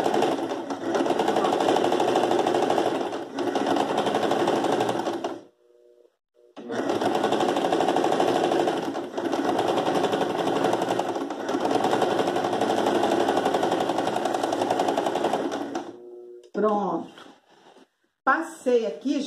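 A sewing machine stitches fabric for a round tablecloth being turned into placemats, running in long loud continuous bursts with a brief pause between runs, close up, followed by a few quieter handling sounds at the end.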